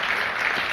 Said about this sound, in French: Est-ce qu'on pourrait applaudir Mid pour son feu intérieur, s'il vous plaît